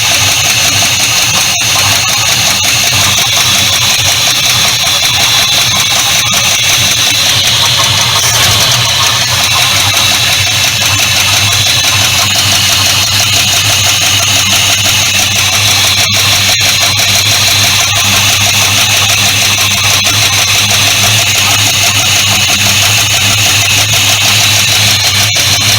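A 1976 Ford LTD engine runs steadily at idle, loud and close, a constant drone with faint, occasional ticking clicks mixed in.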